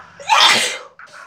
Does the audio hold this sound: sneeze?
yes